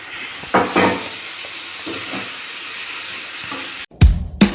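Chicken biryani masala with turmeric and chicken pieces fries in a pot, giving a steady close sizzling hiss broken by brief stirring scrapes, ending with a loud clattering bump.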